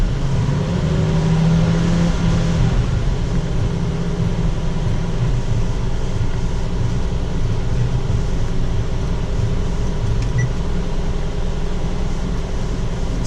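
A 1981 Jeep CJ7 engine runs steadily at idle with a low constant rumble, close and without talk.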